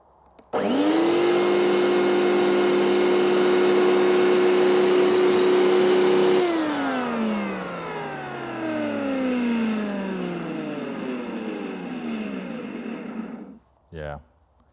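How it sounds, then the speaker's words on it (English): Failing vacuum cleaner with worn bearings starts with a loud steady whine, holds for several seconds, then its pitch sags as it winds down unevenly before cutting off, followed by a short vocal sigh. "this vacuum or its bearings died today"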